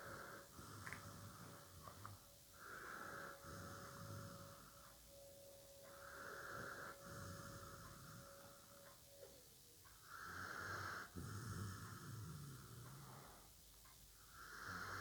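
A sleeping dog snores in slow, regular rasping breaths, each lasting about a second or two and separated by short pauses, very quiet and close, with no talk over it.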